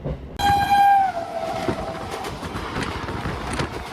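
A Gede local passenger train in West Bengal sounds its horn in one loud, steady blast near the start, then runs on with a continuous rumble and rattle of wheels on rails.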